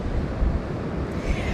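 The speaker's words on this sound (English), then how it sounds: "very important today because it is very windy" Strong gusty wind buffets an outdoor microphone on a walk through Skegness, a steady rough roar with low rumbling surges and no voices.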